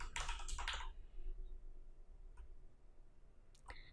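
Computer keyboard typing: two quick bursts of keystrokes up front, then a few sparse clicks and a final short flurry near the end, close and fairly clear over a low background hum.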